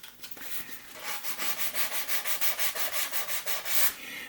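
Hand sanding with 600 grit sandpaper, a close, steady back-and-forth rasp in about a dozen even rhythmic strokes, alone without talk.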